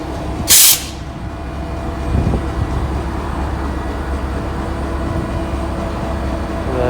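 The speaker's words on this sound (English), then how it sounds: "We'll just walk down to this locomotive and then turn back. It's kind of chugging a little bit." A Norfolk Southern locomotive idles nearby outdoors with a loud, steady low rumble and faint chugging throb. A brief sharp hiss bursts in near the start, and there is no talking.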